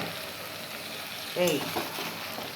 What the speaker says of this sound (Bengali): সিমটা দিয়ে একটু এই মশলার সাথে ভাজা ভাজা করব, মানে কষাবো